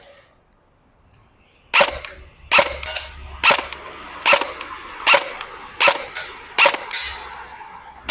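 Electric airsoft BB gun, a second-hand E&C, fires nine sharp single shots at a target about 20 metres away, spaced roughly one per second after a short quiet pause.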